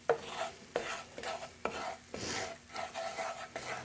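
Utensil scraping and stirring brown steak bits from the bottom of a skillet while making gravy for chicken fried steak, with several sharp scrapes at a steady rhythm over a soft bubbling background, close and moderately loud, no talking.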